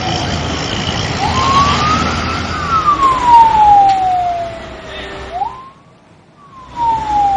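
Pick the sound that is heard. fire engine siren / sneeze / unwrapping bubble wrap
fire engine siren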